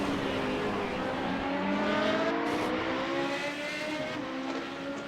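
A Radical race car accelerates hard at Road Atlanta, its high-revving engine heard close from onboard. The pitch climbs steadily through the gears in a continuous loud whine.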